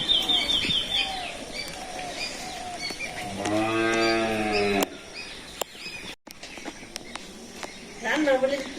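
A cow or calf in a rural village after rain gives one long, close moo midway, surrounded by bird chirps, outdoor ambience and a brief voice or call near the end.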